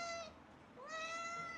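Two hungry house cats, Tarko and Saki, meowing insistently while their food is served at home: two drawn-out, high-pitched meows separated by a short pause, close and clear.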